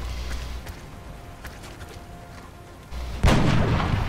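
A sniper rifle shot in the video game XCOM Long War, one sharp loud report that ends a stretch of low ambient game noise and small clicks.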